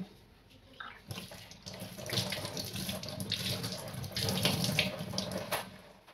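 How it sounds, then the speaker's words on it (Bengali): Fresh coriander leaves being rinsed under a running kitchen tap, a steady splashing rush of water that swells as the leaves are moved through the stream, close by with faint handling noises. "এই যে ধনিয়ার পাত, এগুলো আমি এইবার ধুয়ে নিব"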